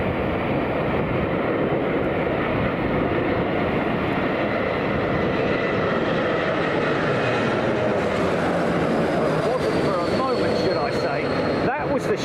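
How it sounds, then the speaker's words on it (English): Air France Airbus A220 coming in to land at Heathrow in strong gusty wind, a steady loud roar of jet engine and rushing wind filling the whole stretch without a break. "This is Air France's A220."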